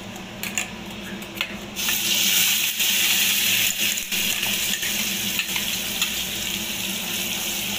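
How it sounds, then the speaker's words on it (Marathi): Ground masala paste fries in hot oil with garlic for a Maharashtrian surmai rassa, a steady close sizzle that swells louder after a quieter start and keeps going with faint stirring scrapes, no voices. "चांगलं तेलात परतून घ्यायचा तो."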